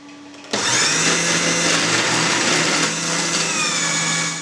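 A food processor starts abruptly and whirs loudly and steadily as it grates potatoes into a fine mush, a dense high motor whine with no speech.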